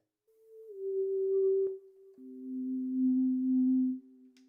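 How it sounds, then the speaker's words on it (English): Clean sine-like tone from the filter of a Modal Electronics Cobalt8 synth used as an oscillator, holding steady, then dropping to a lower pitch and sustaining before fading out, with no talking. "There's a sine wave from the filter here."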